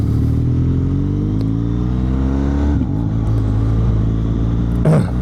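A BMW R1250 GS motorcycle engine, loud and close, with a steady droning rumble as it passes, then a brief swell near the end.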